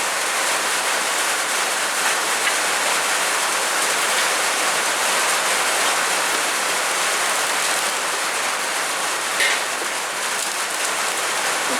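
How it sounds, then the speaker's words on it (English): Steady, dense rain pours down outdoors, a continuous broadband hiss that holds at a constant loud level with no voices or breaks throughout. "Here comes that rain."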